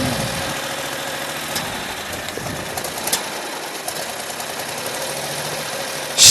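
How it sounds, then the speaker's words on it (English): A Predator 670cc gasoline engine runs steadily with a rough, buzzing idle, rising slightly in pitch at moments as the revs are brought up, with no voices. "Just bring up the revs a little bit."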